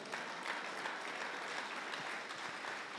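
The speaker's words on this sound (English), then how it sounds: "please clap for the Lord" Church congregation applauding steadily for three seconds, a dense even patter of many hands clapping, moderately distant and without voices.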